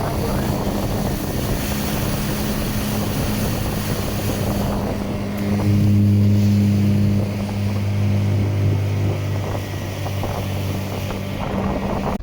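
A speedboat on a resort lake drones with a steady motor hum under rushing wind and water noise, and the engine tone strengthens midway. A voice speaks briefly near the start.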